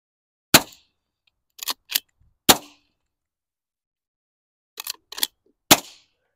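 Seven sharp .22 gunshots fired into pillows, each a brief, muffled crack. They fall singly and in quick pairs, separated by silence.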